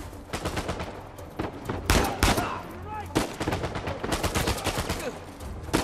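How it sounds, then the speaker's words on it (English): Bursts of video game gunfire in Uncharted 4, rapid automatic volleys mixed with single sharp shots, loud and close, coming in uneven clusters across a tense firefight. "who else is shooting me?"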